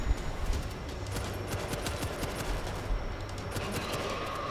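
Sustained machine gun fire in the World War Z zombie shooter set in Tokyo, a continuous rattling stream of shots under crowd noise at moderate loudness.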